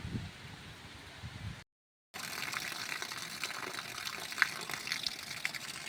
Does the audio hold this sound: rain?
yes